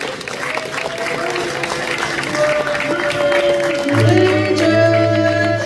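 Audience applause and crowd noise fill a room at a Q&A event in Williamsburg, Ohio, steady clapping that swells louder toward the end, with voices and a sustained tone mixed underneath.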